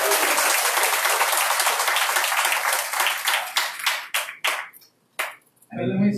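A dense, loud burst of audience clapping at a spiritual gathering thins into separate claps and trails off into a brief pause, after which a voice begins speaking.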